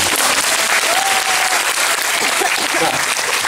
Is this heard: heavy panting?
no